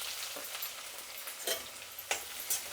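Onions and green chillies fry in hot oil in a kadai, a steady close sizzle broken by a few sharp stirring scrapes, no voices.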